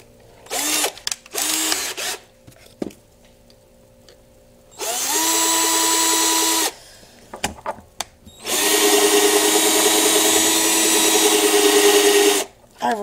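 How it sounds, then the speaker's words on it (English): A drill with a dulled bit bores into material while building a homemade steam engine, in two sustained high-pitched whining bursts of about two and four seconds, with shorter starts and brief pauses between them, close and loud. "I've really dulled the drill bit."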